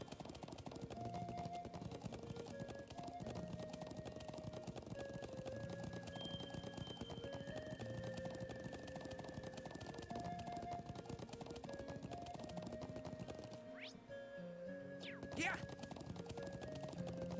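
Rapid rhythmic hoofbeats of a galloping horse in the game The Legend of Heroes: Trails of Cold Steel run continuously under layered game music, with a brief whoosh near the end.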